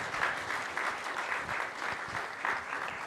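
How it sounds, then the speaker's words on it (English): Conference audience claps for a panel of speakers at a social-impact event, an even wash of applause throughout, fairly soft and distant-sounding, with no talk on top. "Can we give a round of applause to our panelists,"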